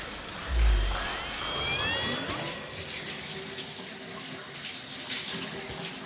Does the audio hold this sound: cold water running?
yes